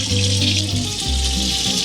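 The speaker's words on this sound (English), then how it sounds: "Let me just rinse off my hands." Water from a running kitchen tap splashes steadily over hands being rinsed, close and fairly loud, with the flow shifting slightly partway through.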